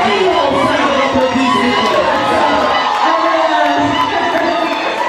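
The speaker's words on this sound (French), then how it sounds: "Oui, on applaudit encore, mesdames et messieurs." A concert crowd roars with loud, continuous cheering, shouts and whoops, the mass of voices close and unbroken throughout, with some voices speaking amid the din.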